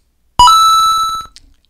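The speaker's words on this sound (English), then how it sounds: "Yes, it's from Super Mario." A Super Mario video game sound effect plays as one bright, clean electronic chime held for about a second, followed by a short blip and then silence.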